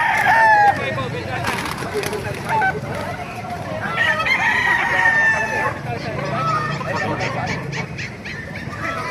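Several gamecocks, including Pumpkin, White Kelso, Lemon Sweater, Boston Sweater and Talisay fighting roosters, crowing in overlapping calls at moderate distance, with clucks and other fowl noise in between and a faint low background rumble.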